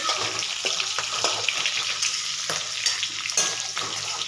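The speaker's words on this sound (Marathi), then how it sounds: "खालून घ्यायचं या पद्धतीने जेणेकरून मिरची व्यवस्थित तळल्या गेल्या पाहिजेत सगळ्या साईडने" Capsicum (bell pepper) frying in a pan while being stirred, a steady close sizzle with scraping strokes of a utensil recurring every second or so, no talking.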